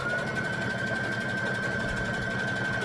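A sewing machine stitches a wrap skirt hem, running continuously in a close, steady motor hum with a rapid needle patter and no pauses.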